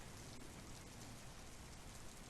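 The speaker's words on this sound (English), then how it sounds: "And now it starts raining." Steady, even rain hiss from the flight simulator game Microsoft Flight Simulator X, a dense uniform patter with no voices and no distinct drops standing out.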